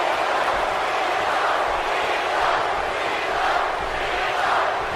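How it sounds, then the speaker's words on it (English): A video-game arena crowd in WWE 2K18 keeps up a steady, loud chant for John Cena, a dense roar with rhythmic swells that never drops out across the whole stretch. "This crowd continuing to chant for John Cena"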